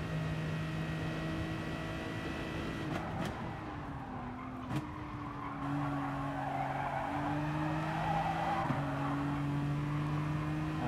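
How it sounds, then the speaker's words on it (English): Race car in a racing video game at Monza with the rear sliding out: a steady engine drone with shifting tones and a faint tyre squeal and skid, quiet throughout. "Back end is sliding out."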